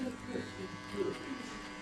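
Electric hair clipper buzzing steadily during a mid skin fade haircut, a close, soft, constant hum with slight shifts as it moves through the hair.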